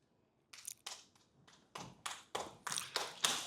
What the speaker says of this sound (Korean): 그러니까 위원장님 좀 밀어달라니까 박수를 치시네요